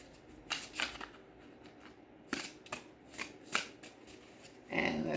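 A Magpie Oracle card deck is shuffled in several quick riffling bursts separated by short pauses, close and crisp, with a longer shuffle at the end and no talking.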